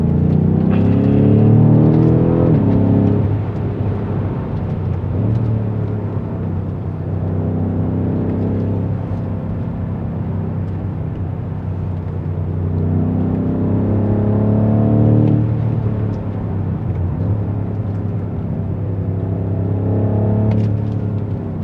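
A BMW M5 Competition F90 sedan with 625 horsepower accelerates hard, its engine rising through repeated revving sweeps as it pulls up through the gears, loud and steady-droning from inside the car, with a brief voice early on.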